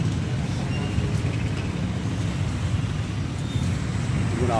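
Morning road traffic on a rainy commute: a steady, close rumble of car and bus engines with low road noise, continuous throughout and with no one speaking.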